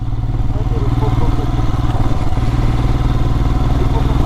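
A motorcycle engine labours uphill in second gear on the Khardung La pass at high altitude, a loud steady low thrumming drone running throughout, close to the rider.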